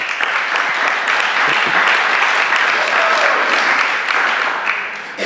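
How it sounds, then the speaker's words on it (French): Audience at a church gathering giving a long, hearty round of applause to encourage a young man called up front, dense crowd clapping holding steady and loud before easing slightly at the end, with faint voices mixed in. "Et on va lui faire un grand applaudissement pour l'encourager"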